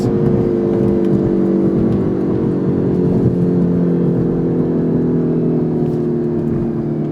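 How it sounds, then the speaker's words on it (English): A 2019 Hyundai Veloster N engine hums steadily at a high idle with the clutch pushed in, its revs holding with a slight rise and fall, close and continuous with no talking. "So when I push the clutch in, you can hear it already revving."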